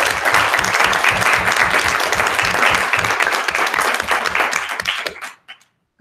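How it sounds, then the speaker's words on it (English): Loud applause with rhythmic clapping from an audience at a school geography bee, sustained for several seconds before tapering off quickly into near silence. "I want to give a round of applause to Dean."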